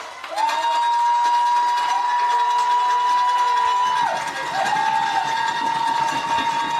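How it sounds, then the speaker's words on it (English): A steam-whistle-like horn blares in long sustained blasts over a large stadium crowd at a high school football semifinal as the Trinity field hockey team buses pull up, with cheering and applause swelling beneath. "I think the Trinity field hockey buses are just pulling back in"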